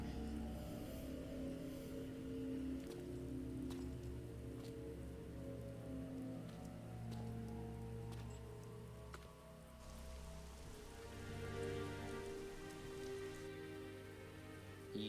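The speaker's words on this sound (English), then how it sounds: "And it started to rain just like in the Just in prologue." Rain falling in the game Devil May Cry 3, a steady soft wash of drops on surfaces that continues without a break, faint and even throughout, with no voices.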